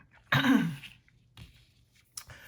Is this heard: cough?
yes